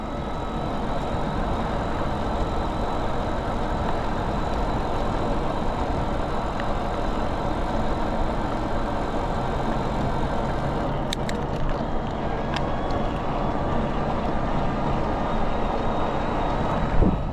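A Tongsheng TSDZ8 mid-drive e-bike motor running on throttle during a test ride, a constant dense whir and road rumble that holds steady throughout, with no talk.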